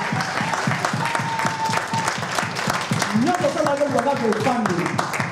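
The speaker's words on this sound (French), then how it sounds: "Acclamons très fort le roi des rois." Congregation applauding at a church seminar, steady rhythmic clapping throughout with a voice speaking over it and a rising vocal tone near the end.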